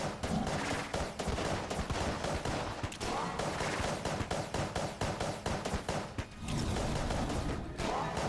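Constant, dense rapid gunfire from the Polaris gun in Enter the Gungeon, with shots and impacts layered thickly over one another for the whole stretch with hardly a pause.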